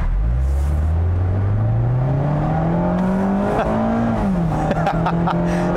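A 2020 Mazda MX-5 Miata RF with an automatic transmission accelerates hard, its engine note climbing steadily in pitch, then dipping briefly and holding, loud and close from inside the car.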